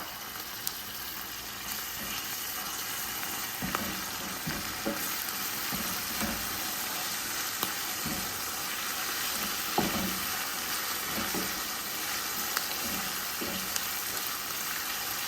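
Blended pepper sizzling and frying in a pan alongside onions and garlic, a steady hiss with occasional stirring clatters and soft utensil knocks, fairly quiet and with no speech.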